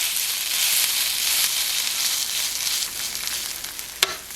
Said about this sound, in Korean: 달궈진 팬에 식용유를 두르고 중불에서 감자채를 올려 고르게 펴주세요